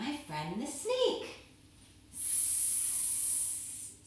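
A voice imitates a snake's long hiss, a steady breathy rush lasting a couple of seconds, coming right after a brief stretch of storytelling speech during a children's yoga story.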